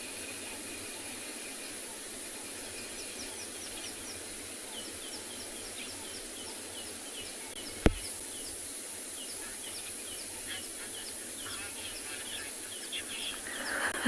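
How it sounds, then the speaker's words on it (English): Birds call on a South African afternoon safari: repeated high chirps and tweets, faint to moderate, spread across the clip over a steady hiss, with one sharp click partway through. "Listen to these stunning birds around us."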